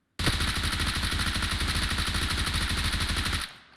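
Rapid automatic gunfire from a weapon in PUBG Mobile, a loud unbroken burst of closely spaced shots lasting over three seconds before cutting off abruptly.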